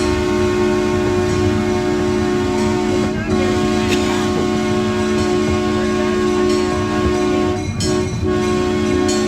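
The Billy Jones Wildcat Railroad, a small park train, rumbles along steadily with a loud sustained horn-like tone and rail clatter, with brief voices and clicks mixed in.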